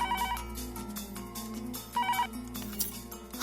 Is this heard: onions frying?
no